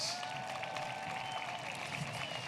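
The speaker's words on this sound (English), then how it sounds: "May we have a round of applause to recognize all these graduates" A crowd at a 2021 Del Valle High School graduation ceremony applauds the graduates with a steady, moderately faint wash of clapping and light cheering.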